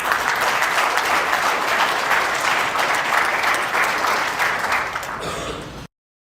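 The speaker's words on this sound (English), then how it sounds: "please, a round of applause for everyone who shared their stories" A large audience at the 2023 Indiana 911 Professionals Conference applauds for about six seconds, a dense, steady wash of clapping that stays loud throughout before cutting off abruptly.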